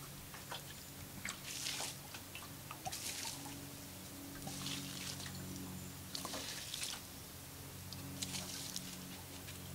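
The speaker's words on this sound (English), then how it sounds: "And then repeat with sprinkling water." Water sprinkled over campfire ashes comes in several separate hissing, pattering bursts, each a second or so long, with a low steady hum underneath and no talking.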